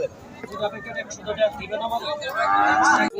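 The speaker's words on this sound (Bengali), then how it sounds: "সার গরু কিনে নিয়ে যাচ্ছেন কত নিল কাকা" A crossbred cow at a busy cattle market gives a long, loud, close moo that swells toward the end, over a background of voices and crowd chatter.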